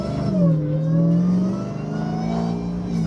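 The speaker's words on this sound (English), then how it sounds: "That supercharger sounds so cool." A supercharged 950+ HP Dodge Hellcat engine revs loudly from close by, its whine rising and falling across a sustained pull with a faint supercharger whir on top and no talking.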